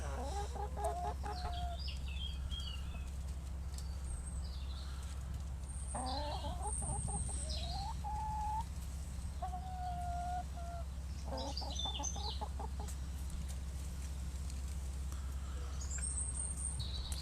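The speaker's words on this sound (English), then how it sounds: "So here are the chickens." Chickens cluck in repeated short bursts and rising calls, fairly close, over a steady low hum with no talk.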